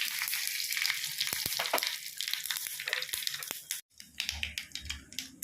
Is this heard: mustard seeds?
yes